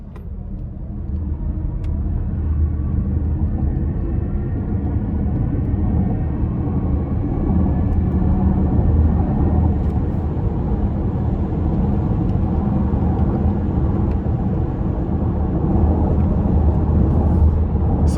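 A 2025 Chevy Equinox EV LT 1 electric crossover accelerates hard onto an interstate, heard from inside as a steady low road and tire rumble with a faint rising motor whine that holds throughout with no talking.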